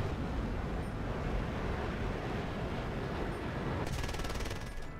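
Rapid video-game gunfire crackles continuously in a dense, steady burst, with a sharper rattling layer of automatic fire joining near the end.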